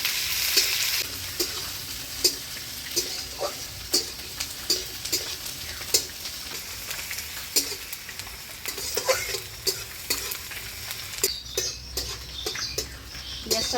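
Chopped onion and crushed garlic fry with bay leaf, five-spice and ginger in a pan for khichuri, a steady sizzle broken by repeated scraping stirs throughout.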